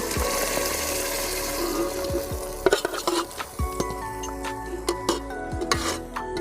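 Tomato and onion fry in a tempering for a country chicken curry, a steady close sizzle with sharp clinks and scrapes of a stirring spoon that come and go over it. No voices.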